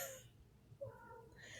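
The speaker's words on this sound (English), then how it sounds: "The cat's trying to climb the window right now." An indoor cat meows faintly while trying to climb a window, one short drawn-out call against quiet room noise.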